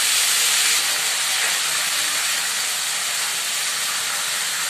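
A spice paste with green chili dropped into hot oil already flavored with cumin, setting off a loud, continuous, even sizzle with no voices.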